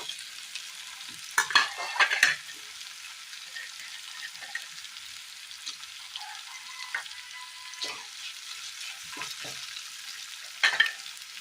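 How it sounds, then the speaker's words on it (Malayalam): A spoon stirring sautéed onion with cooked carrot and mango in a pan for a Kerala mango stir-fry, soft sizzling throughout with a few scraping clatters of the utensil, quiet and close. "ഇതിലേക്ക് വേവിച്ച് വെച്ചിരിക്കുന്ന ക്യാരറ്റും മാങ്ങയും ചേർത്ത് കൊടുക്കാം."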